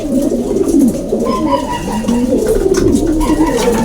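Pet pigeons cooing up close, repeated low throaty coos overlapping in a steady loud rhythm, with some rustling behind them.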